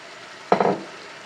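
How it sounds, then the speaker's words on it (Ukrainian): Flour hitting a hot pan with onion and mushrooms, a sudden loud sizzle bursting in and fading over a fraction of a second, with a couple of quick follow-up hisses. "І гарненько підтушковуємо борошно разом з цибулею і з грибочками."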